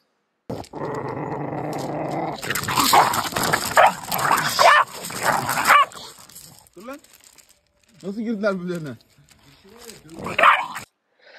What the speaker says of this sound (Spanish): Dos cachorros Rottweiler pequeños, jóvenes, muy pequeños, muy cachorritos